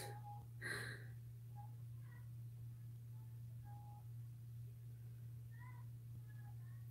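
A cat meows several times, with short, soft calls scattered across the clip over a steady low hum, and one louder cry near the start.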